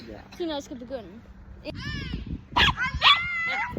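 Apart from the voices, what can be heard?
dog barking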